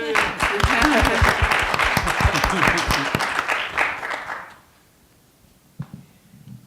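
Audience applause at a community discussion, loud dense clapping for about four and a half seconds before cutting off sharply, followed by near silence with a faint stray sound.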